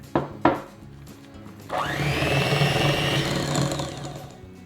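An electric hand mixer beats butter with powdered sugar, starting with two short knocks and then whirring steadily and loudly at close range for several seconds before easing off.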